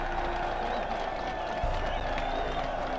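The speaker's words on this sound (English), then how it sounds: "there's that slow round of applause" A scattered, slow round of applause from a small crowd in the video game Warlords Battlecry II, steady and moderate over a low background hum.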